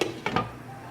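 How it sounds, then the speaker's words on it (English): A lid set down on a cooking pot over a gas flame while pork curry with mini peppers cooks: a couple of quick, light metallic clinks close by, with no talking. "and I'm going to cover with the lid"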